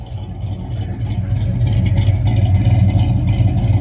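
A 1967 Chevrolet Chevelle muscle car engine running at a loud, steady idle, deep rumbling throb that swells a little stronger after the first second and holds close and continuous.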